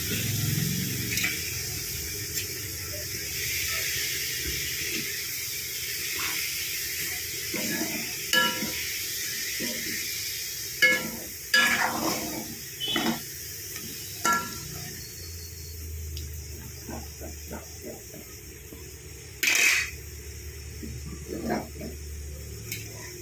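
Chicken masala and tapioca sizzling in a pan for chicken kappa biryani, with a steady frying hiss and scattered clinks and scrapes of a utensil against the pan.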